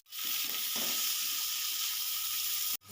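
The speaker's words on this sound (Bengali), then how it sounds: "এবারে দিয়ে দেবো বিনস আর ক্যাপসিকাম দিয়ে এগুলো আমার দু থেকে তিন মিনিট ভেজে নেব" Carrots, beans and capsicum fry in a pan with a dense, steady hiss of sizzling that starts abruptly and cuts off near the end, a few soft stirring knocks underneath.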